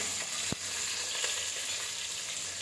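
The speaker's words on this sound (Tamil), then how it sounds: "பச்சை மிளகா, கருவேப்பிலை எல்லாத்தையும் போட்டு நல்லா தாளிச்சிக்கிறேன்." Curry leaves, garlic, onions and green chillies tempering in hot oil for a fish curry give a steady, close sizzle and crackle, with one sharp pop near the start.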